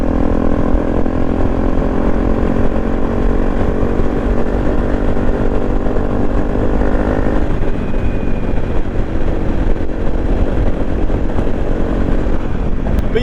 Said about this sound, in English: This helmet is noisy. It's quite a lot of wind noise.